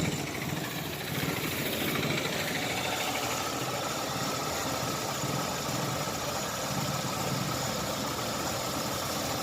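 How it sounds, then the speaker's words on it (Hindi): A Chevrolet Optra engine runs rough at idle with a misfire, a steady dense rumble with uneven knocking and vibration that continues alone and fairly close, with no talk. "ये धड़क रहा है इंजन कितना ज्यादा"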